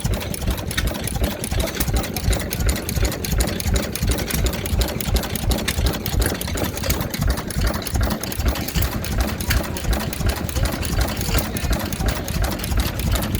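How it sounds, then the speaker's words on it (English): A vintage stationary engine at a Victorian-themed show in Llandudno runs steadily nearby, a continuous fast, even chugging with a deep low thump under each beat and no pauses, heard alone without talk. "Very beautiful, quiet engine."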